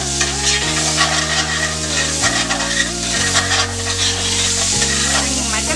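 Onion cooking in oil in a pan sizzles steadily while being stirred with a scraping rhythm, close up, beneath a layer of background music.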